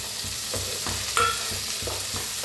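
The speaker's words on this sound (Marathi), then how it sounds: "आता त्याच्यात टाकूया टमाटर." Chopped tomatoes go into a pan of frying onions for a green-masala egg curry, giving a steady sizzle with repeated scraping stir strokes and one sharper clatter midway, with no talking.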